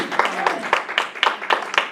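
A church congregation claps together in steady, rhythmic unison, loud sharp beats about four per second close by, with a voice talking faintly underneath.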